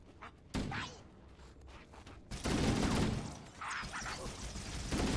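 Assault rifle bursts and exploding grunts in Halo CE, sharp rapid gunfire volleys and muffled blasts erupting in bursts, fairly close and loud against a low game backdrop.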